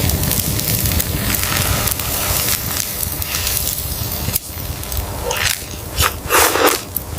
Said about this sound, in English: the day's catch sizzles over the open flame